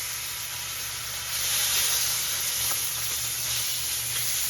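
Filet mignon sears in a hot pan with a steady, loud sizzle and hiss that swells slightly partway through and carries on without a break.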